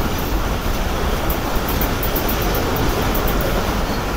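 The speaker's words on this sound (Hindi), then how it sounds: "तो वही बहुत बेहतरीन और उड़ती हुई चल रही है ट्रेन इस वक्त" A Karakoram Express passenger train running fast in old coaches, heard from inside as a steady, loud roar of wheels and rushing wind with faint rhythmic rail clicks throughout.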